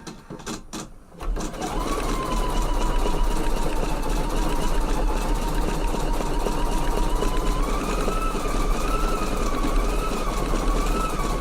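A Husqvarna EPIC 3 embroidery machine starts up again after a brief clatter of handling, then settles into a loud, steady, close stitching whir with a faint wavering tone over it, running on without pause.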